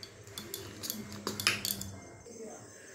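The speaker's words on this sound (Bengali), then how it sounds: "আমি এর মধ্যে অল্প একটু দুধ নিয়ে এটাকে ভালো করে মিশিয়ে নেব" A spoon stirs oats with a little milk in a bowl, giving a few light scraping clinks of metal on dish, close and fairly soft, with no talking.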